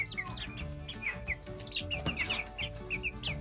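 Newly hatched chicks peep in quick, repeated bursts, close by, over a steady low tonal background throughout.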